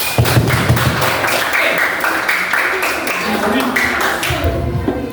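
A classroom breaks into dense, continuous clapping for about four seconds before it thins out and fades.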